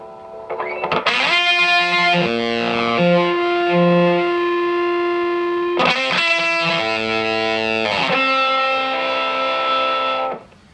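A heavily distorted fuzz guitar note through a Mojo Hand FX El Guapo pedal swells, sputters and cuts out in starved, gated bursts like a dying battery, then surges back, loud and alone.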